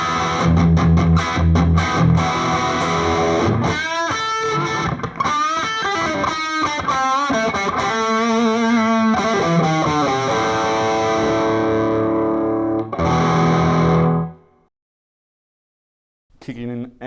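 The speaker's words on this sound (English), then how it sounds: "Kick in my overdrive." An overdriven electric guitar plays a sustained, distorted lead line with bending notes, loud and up close, before cutting to silence.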